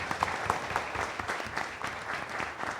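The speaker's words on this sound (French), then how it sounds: "un applaudissement nourri de toute la salle pour notre partenaire" A full hall at a business awards event applauds a corporate partner, a sustained spread of many hands clapping with a few sharper claps near the front, moderately quiet.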